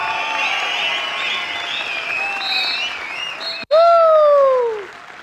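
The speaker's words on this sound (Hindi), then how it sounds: "जोरदार तालियां।" An audience at a motivational talk applauds loudly while shrill, wavering whistles ride over the clapping. A sharp crack precedes a final long, falling whistle that trails off.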